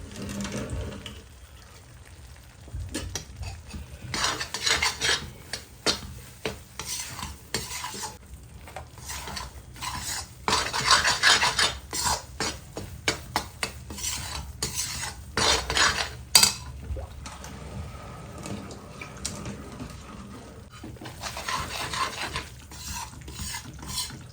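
A spoon stirs flour and sugar water in a pan on a gas flame for karah prasad, quiet repeated scraping and clinking strokes with soft sizzling, alone and close.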